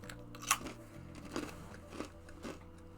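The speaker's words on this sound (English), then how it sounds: "that chewing can definitely be heard on the mic" Pretzels crunched and chewed right at the microphone, with a sharp bite near the start followed by several softer crunching chews spaced about half a second apart, over a steady low background hum.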